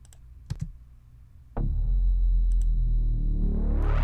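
Glitchy electronic sound effects in a music track: a few sharp clicks over a low hum, then an abrupt loud burst of dense, distorted noise with a steady high tone that swells brighter toward the end.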